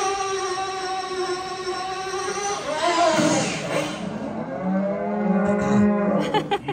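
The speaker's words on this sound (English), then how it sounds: "That's a lot of cattle to clear." Cattle moo repeatedly at a rodeo-themed barbecue restaurant in Disney's Hollywood Studios, with long, loud, overlapping lowing calls that swell and bend in pitch, the later ones lower and rougher.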